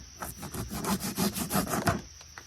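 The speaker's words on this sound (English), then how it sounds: "So to trim Great Stuff Foam, the easiest thing I found to use is just a hacksaw blade." A hacksaw blade trims cured Great Stuff expanding foam during a camper build-out, giving a run of close, raspy back-and-forth sawing strokes at a moderate level, with no talking.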